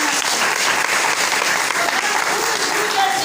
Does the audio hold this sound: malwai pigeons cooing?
no